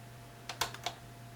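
Button clicks on a Caddx Gazer FPV zoom camera as it switches from day to night mode: four short, close plastic clicks in quick succession over a steady electrical hum.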